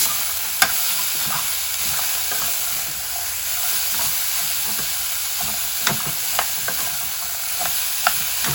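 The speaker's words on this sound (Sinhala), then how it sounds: "හොඳට කලවම් කරනවා" A beetroot curry is stirred in a hot pan, with a steady sizzling hiss and occasional sharp scrapes and clacks of the spoon against the metal, spread across the whole stretch.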